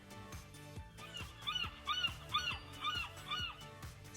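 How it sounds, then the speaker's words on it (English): A seagull calls in a series of five or six quick, nasal squawks at an even pace, set over a bouncy musical backing with regular beats. "Seagull."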